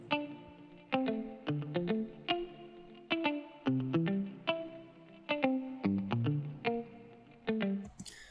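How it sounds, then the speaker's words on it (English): Layered electric guitars open a song intro, heavy with distortion, chorus and effects, plucking choppy, rhythmic note patterns that ring close and clear with no voices. "Probably the most dominant thing is these guitars."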